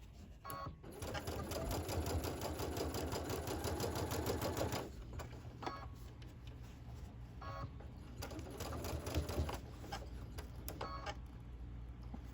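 Sewing machine stitching a long seam with many points: a close, steady rapid mechanical whir for about five seconds, then quieter intermittent short bursts and clicks as the fabric is adjusted.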